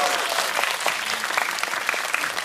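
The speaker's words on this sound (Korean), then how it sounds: "감독님 박수 한번 부탁드리겠습니다." Steady applause from a cinema audience at a post-screening Q&A in a Yongsan CGV auditorium, honoring the director; dense continuous clapping with no voices on top.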